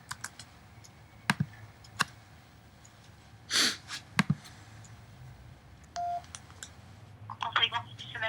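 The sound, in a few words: telephone call being dialed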